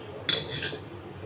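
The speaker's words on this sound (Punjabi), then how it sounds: "ਬਸ ਹੁਣ ਆਪਣੇ ਇਹ ਚਾਰ ਭਾਂਡੇ ਰਹਿ ਗਏ ਧੋਣ ਵਾਲੇ" A short clatter of metal utensils and dishes being handled while washing up a few pots in a home kitchen, one bright clink burst followed by a fainter rattle.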